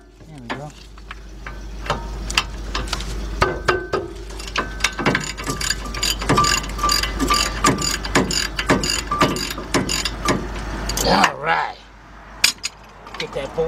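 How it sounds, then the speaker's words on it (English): A 21 mm half-inch drive socket on a ratchet loosens a brake bolt on a 2000 Dodge Ram 1500 van with a 3.9 engine, the pawl clicking in rapid close bursts over a low hum. "Got my 21 millimeter half inch drive with my nice ratchet."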